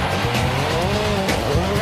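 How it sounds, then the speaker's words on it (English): A rally car on snow in Sweden, its engine revving hard and steady at close range with a shifting pitch and tyre noise on the snowy surface, loud and with no talking. "Driving on snow in Sweden demands special tyres and a very special skill."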